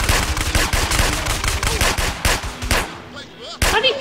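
Rapid video-game gunfire in GTA San Andreas, loud bursts of automatic shots in quick succession with a brief lull near the end before another burst, with no talking.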